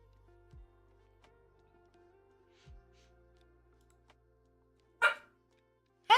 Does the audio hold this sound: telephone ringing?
no